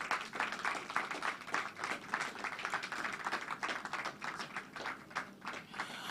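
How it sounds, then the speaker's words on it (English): Audience applause at a live event finale as a guest walks onto the stage, a steady patter of many hands clapping at moderate distance with no voices over it. "please give him a round of applause as he comes forward on stage"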